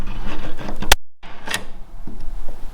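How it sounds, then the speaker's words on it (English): A spring-loaded automatic center punch snaps with one sharp, loud click against metal on a VL Commodore body being stripped down, followed by a brief hush and a softer knock. "So when I set the center, I push down it, you'll hear it click."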